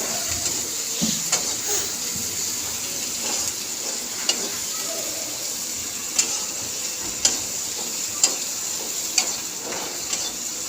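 Onion and chilli sizzle steadily in a hot pan with spices, with a constant close frying hiss broken by occasional sharp ticks and pops.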